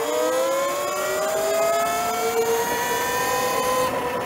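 Eride Pro SS 2.0 electric dirt bike accelerating hard: a loud, rising electric motor whine that climbs steadily in pitch for several seconds, with wind rush underneath and no talking.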